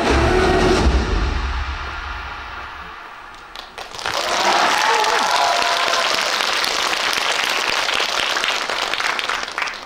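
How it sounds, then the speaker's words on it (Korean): Applause bursts from an audience at a fan screening and Q&A for a Korean film, starting as a dense roar, briefly thinning, then swelling again into steady clapping that fills the room. "현장에는 박수가 터져 나왔습니다"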